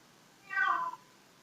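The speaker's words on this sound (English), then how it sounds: "Pardon my cat who's interrupting everybody here." A domestic cat gives a single clear meow of about half a second, close to the microphone and fairly loud against a quiet room background.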